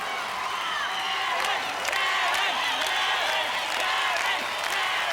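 A studio crowd cheers and shouts steadily during the Swing Shot event on Australian Gladiators, a dense roar of voices with scattered applause and whistles throughout.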